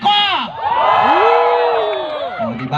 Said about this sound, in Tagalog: May kasamang hiyawan at sigawan na nagsasabing pangit ako!